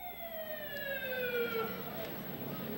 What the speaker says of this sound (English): So we'll give the sirens a chance to get going.